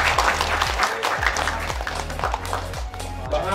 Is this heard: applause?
yes